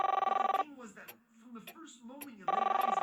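A telephone bell rings in a radio drama, two bursts of rapid trilling separated by a pause in which a voice speaks.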